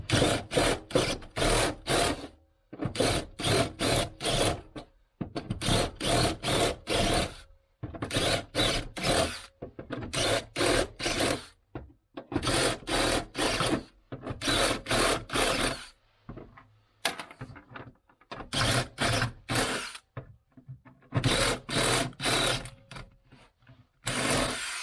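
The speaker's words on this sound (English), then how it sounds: "Use the step drill instead." Repeated bursts of harsh, grinding step drilling into the metal sill of a 1993 Range Rover Vogue, each lasting a second or two with short pauses between, loud and close.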